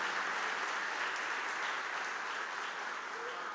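Church congregation applauding during a sermon, a steady wash of many hands clapping at moderate volume, sustained and slowly easing off.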